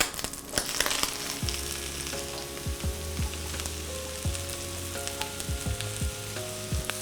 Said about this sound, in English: I'm gonna saute these up until these mushrooms